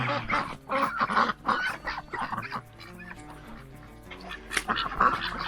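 A flock of ducks quacks and honks in a busy, overlapping chorus, close by and fairly loud throughout.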